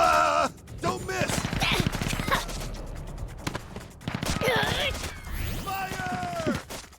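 Rapid bursts of video-game gunfire in Sand Land, repeated volleys of cracking shots mixed with shouted character voices and clattering impacts, loud and close throughout.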